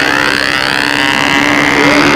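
Model aircraft replacement engine in the Tiger 60 class holding a constant, loud, high-pitched buzz close by, with a faint rise in pitch near the end and no voices over it.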